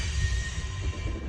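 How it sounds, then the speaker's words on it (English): A freight train hauling garbage rumbles on rails nearby, a heavy low rumble with a thin sustained squeal of wheels on track. "That screeching you hear is a train down here."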